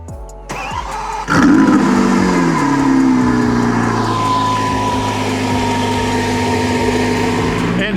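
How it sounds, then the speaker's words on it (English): The V12 engine of a 2022 Lamborghini Aventador Ultimae LP780-4 cranks and roars to life with a sharp burst, then settles into a loud, steady idle that holds throughout. "let's go and hear how that V12 sounds"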